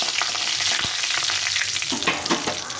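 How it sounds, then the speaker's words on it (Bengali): Dried red chillies and bay leaves crackle and spit in hot oil, a steady close sizzle broken by a few sharp pops and light stirring toward the end, with no voices. "এখানে তেলটা গরম হয়ে গেছে এখন আমি দুটো লঙ্কা ফাটিয়ে দিয়েছি আর এখানে দুটো তেজপাতা দিয়েছি"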